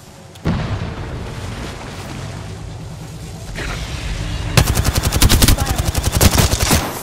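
Rapid automatic gunfire in the Apex Legends video game, loud and close, starting as scattered booms and rumble before breaking into a fast rhythmic burst of shots.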